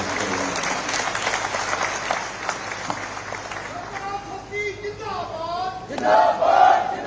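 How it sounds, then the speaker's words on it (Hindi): A large crowd claps and cheers at a political rally in Una, Himachal Pradesh, with sustained applause and shouts; someone speaks loudly over the noise toward the end. "और ये ताली आपकी अपने लिए होनी चाहिए, जोर से होनी चाहिए"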